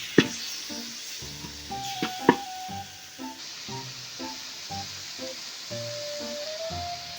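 Vegetables sautéing in a pan for a Filipino home dish, a steady low sizzle and hiss with light scraping and clacks of a utensil as they are stirred, a couple of sharp clinks standing out near the start.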